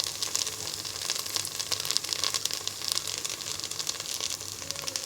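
Dried chili frying in hot oil, a steady bright sizzle and crackle heard close up and at moderate volume, with no voices.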